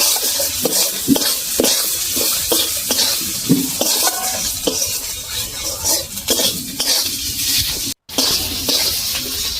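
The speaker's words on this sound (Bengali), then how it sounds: "ভালো করে একটু কষিয়ে নেব 2 মিনিট মতো।" Ground coriander and cumin paste sautéing in a pan, loud rhythmic scraping and clacking of a spoon against metal over a constant sizzle, with a brief cut near the end.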